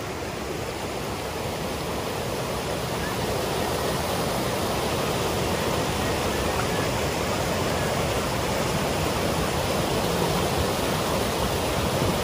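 A large flow of water rushes into Big Bear Lake, a loud, constant, broadband roar heard up close without a break.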